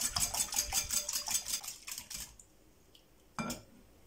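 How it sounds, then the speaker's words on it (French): Pancake batter with peanut butter, chocolate, milk and sugar being stirred hard in a bowl: quick, busy clinking and scraping for about two seconds, then quiet with one last clack. "Remuer intensément jusqu'à ce que le mélange soit homogène."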